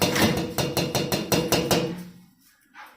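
A small hammer taps a dent out of a motorcycle panel: about seven quick, sharp metallic taps in a steady rhythm, close and fairly loud, then quiet with one faint knock near the end.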